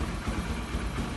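A motorcycle that will not run on its electric starter, here kick-started instead, idles steadily and close by with a low, even engine rumble and no talk.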